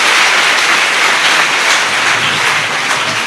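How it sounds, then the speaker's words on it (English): Sustained, loud audience applause fills a university law school debate hall, dense clapping from a large crowd holding steady throughout with no talk over it. "a very warm round of applause for these 2 great gentlemen"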